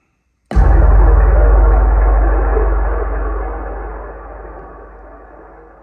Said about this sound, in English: it sounds like a bass drum strike with a stream in the background